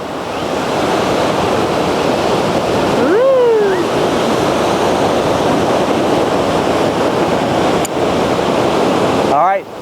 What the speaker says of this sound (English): The wind is kicking right now out here at the beach.